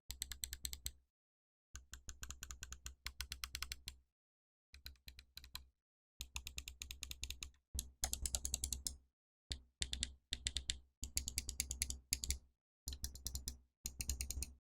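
A Razer Basilisk X Hyperspeed wireless gaming mouse clicks close up in fast bursts of sharp taps, with short silent gaps between the runs.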